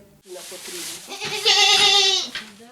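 Goats bleating on a goat farm run by a family in Vinnytsia region, several loud, wavering, drawn-out calls one after another close by, with no talk over them.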